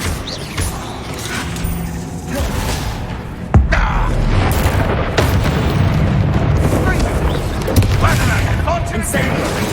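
Bombarda explosion spell in Hogwarts Legacy, a sudden loud boom partway through, followed by sustained rumbling combat noise and further sharp impacts, with a voice speaking over the game sounds.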